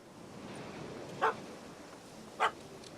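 A puppy in The Witcher 3: Hearts of Stone gives two short, separate barks about a second apart over a low game ambience.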